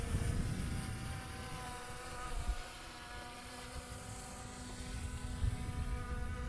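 A camera drone circles a pickup truck outdoors, its steady buzzing whine of rotors holding a constant level with faint swells as it moves around, over low rumbling background noise.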